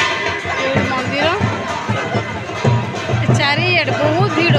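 Dense babble of a crowd at a Jagannath temple, many overlapping voices close by with shouts rising now and then, steady and unbroken throughout.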